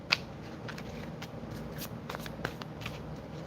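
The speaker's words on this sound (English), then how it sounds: "We'll do a little more shuffling." Tarot cards are shuffled close up in a steady papery riffle with small snaps and flicks, quiet and continuous.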